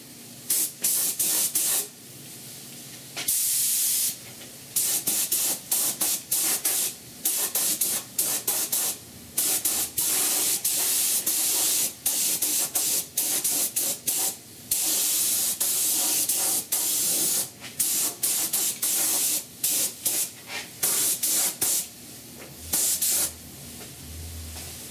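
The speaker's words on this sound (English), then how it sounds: "I'm priming this bottom flange, even though it's not really time to prime it because it's steel" Spray primer hissing from a can onto the steel bottom flange of a rusted 1969 C10 truck core support, in repeated close bursts of a second or two separated by short pauses.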